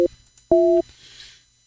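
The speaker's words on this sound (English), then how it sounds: "Even the touch tones sound European." Two-tone telephone touch tones during a Skype call: a brief dual-tone beep followed by a longer, louder steady tone, with quiet line hiss afterward and no talking.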